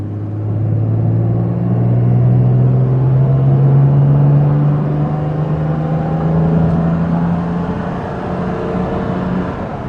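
A 1965 Jaguar S-Type with its XK straight-six accelerates hard in second gear, a steady rising engine drone and rumble that climbs in pitch over about ten seconds, loud and close with no talking.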